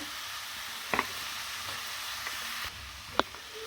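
Noodles stir-fried in a pan over lowered heat for veg hakka noodles, a steady moderate sizzle throughout with a couple of brief sharp clinks and taps of stirring.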